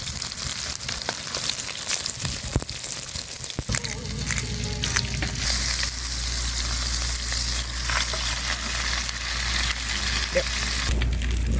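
Food fries and sizzles on a camp stove at a campground, a steady crackling hiss with occasional stirring clatter and a louder sizzle surge partway through.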